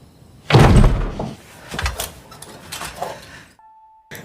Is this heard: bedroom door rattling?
yes